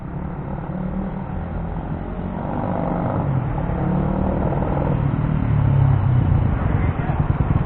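A Kawasaki KSR 110 minibike engine revs up steadily and loudly close by, its note rising and thickening over several seconds with a rough, uneven edge from a fuel problem making it break up.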